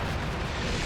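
An airstrike explosion in a multiplayer video game, a loud, close, low rumbling blast that holds at full strength for under a second with no voices.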